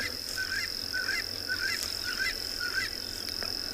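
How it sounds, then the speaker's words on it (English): A Coqui francolin repeats a harsh, rhythmic call several times at a steady pace, over a constant high cricket whine and open-air background at sunrise. "Corky francolin."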